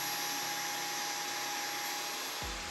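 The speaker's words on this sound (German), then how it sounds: "Und wenn diese Stufe Auto eingeschaltet ist, dann erkennt der Staubsauger den Untergrund." A Jimmy H9 Pro cordless vacuum cleaner runs in Auto mode with a steady high-pitched whine and airy rush, close and constant, its motor note shifting near the end.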